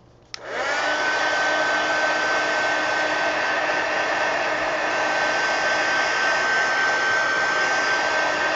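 A hair dryer blows on a mixed media collage in an altered book, switching on abruptly and then holding a loud, steady whirring rush close by, with no talking.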